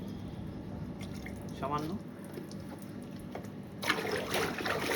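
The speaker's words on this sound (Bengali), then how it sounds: "এবার শুধু প্লেন জলে একটু এটাকে এবার ধুয়ে ফেলবো" Motorcycle riding gear being rinsed in plain water makes soft, close dripping and trickling with a splashier gush near the end, while someone talks over it.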